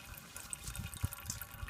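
Filtered water trickles from a LifeStraw Mission purifier hose into a bottle, a faint steady splashing flow with small gurgles, heard alone.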